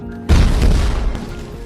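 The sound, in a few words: explosion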